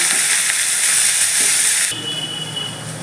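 Bottle gourd peel frying in hot oil with whole green chilies gives off a loud, steady hiss and sizzle that drops to a softer sizzle partway through, with no talking.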